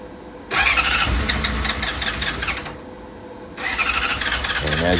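A Honda CBR600RR motorcycle engine with a cold no-start fault cranks over loudly without firing, in two long whirring bursts separated by a brief pause.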